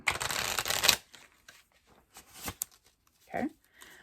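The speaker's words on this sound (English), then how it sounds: "I have my deck of cards. I will be shuffling." A deck of cards riffled in one close, crisp burst of rapid flutter, followed by scattered softer taps and handling noises, with a brief voice near the end.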